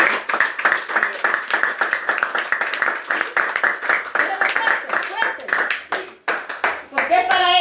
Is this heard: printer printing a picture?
no